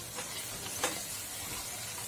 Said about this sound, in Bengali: মশলাটা আমি একটু নাড়াচাড়া করে নেব আর মশলাটা এখানে খুব ভালো করে কষাতে হবে।